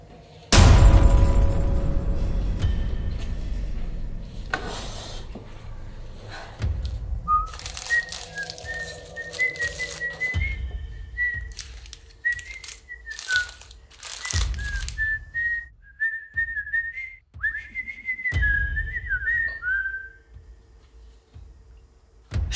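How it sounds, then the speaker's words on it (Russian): Someone whistles from upstairs on the second floor of a house, a thin wavering melody in short phrases after a few loud thumps and rustles, heard at a distance in an otherwise quiet room. "Опять кто-то свистел."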